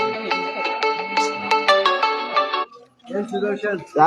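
A mobile phone plays a bright, melodic ringtone for a couple of seconds during a street political campaign in Bengaluru, then stops as people talk nearby.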